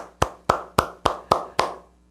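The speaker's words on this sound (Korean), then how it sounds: "하나님께 감사의 영광에 박수 올려드리겠습니다." Six evenly spaced, sharp claps ring out at a Myanmar community worship service in a church hall, each with a short reverberant tail, moderately loud and with no voices.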